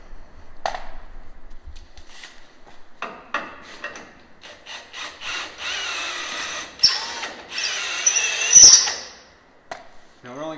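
A tie rod reamer works out a tie rod hole on a 1940 rat rod build, making bursts of scraping, grinding metal cutting that grow louder and more sustained toward the end, with brief pauses between passes.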